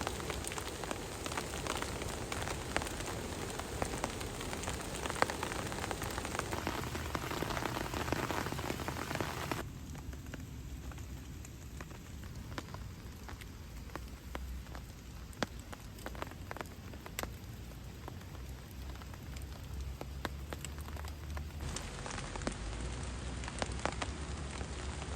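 Steady rain patters on a surface at a campsite, a dense continuous hiss with occasional louder drops, its tone shifting partway through and no voices.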